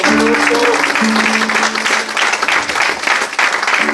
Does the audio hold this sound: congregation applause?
yes